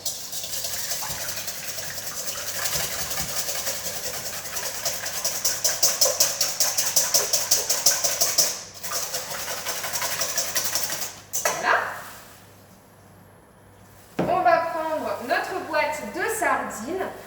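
Cream and eggs being mixed for a dish made from canned food, a steady rapid mechanical whir with rhythmic pulsing that stops abruptly, followed by a person speaking.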